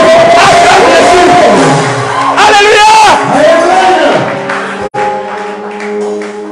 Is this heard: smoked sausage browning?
no